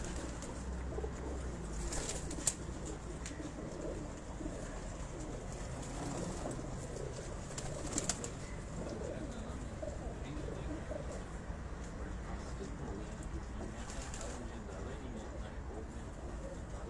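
Pigeons coo steadily from a rooftop in Rawalpindi, their soft repeated calls layered over a constant hum of outdoor background noise, with a faint train-like rumble in the distance.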